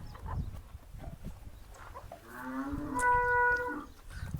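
A pregnant Holstein Friesian cow lets out a single long, low moo close by, rising into a drawn-out bellow after a few quiet rustling sounds.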